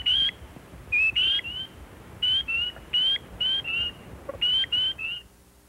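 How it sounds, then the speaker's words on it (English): Northern spring peepers call in a wetland, giving a run of about a dozen short, clear, high-pitched peeps in quick irregular succession, loud and close over faint background. "The call of the northern spring peeper is a high-pitched peeping sound like this."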